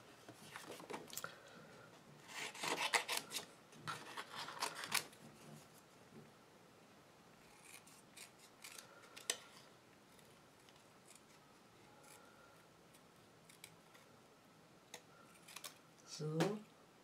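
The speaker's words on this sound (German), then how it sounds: "Und das schneiden wir uns jetzt aus." Scissors snip out a paper Halloween tag in a crafting session, with clusters of quick, crisp cuts early on and a few scattered snips later, close but soft, while a person talks over it.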